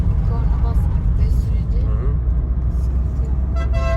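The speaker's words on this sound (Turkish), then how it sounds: "Sağa gel diyor sana. Korna çalıyor." A car horn honks repeatedly behind a learner driver during a driving lesson on a road, sounding fairly close over steady engine and traffic rumble, with people talking inside the car.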